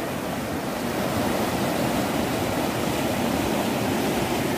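Ema waterfall running full, a steady loud roar of heavy rushing water pouring toward a river, dense and continuous throughout with no voices.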